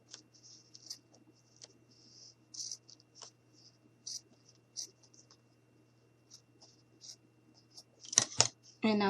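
Scissors snip off excess craft material for an Easter decoration in a string of small, crisp, close cuts at an uneven pace. A louder burst of rustling handling comes near the end.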